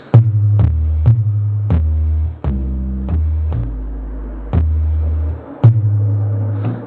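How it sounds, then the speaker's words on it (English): Deep booming TR-808-style bass drum hits from a Roland Fantom G synthesizer play in an uneven pattern, each with a sharp attack and a long, sustained low tail. "So now I have a really nice 808 sound."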